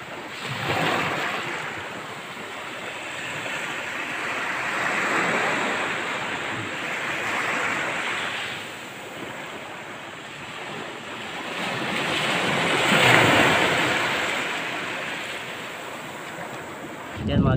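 Waves wash and surge around a small fishing boat out at sea, broad rolling swells of water noise rising and falling with gusty wind buffeting the microphone, steady and close throughout.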